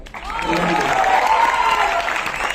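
A stand-up comedy audience claps loudly and continuously, applause swelling after a moment and holding steady, with a voice speaking over it.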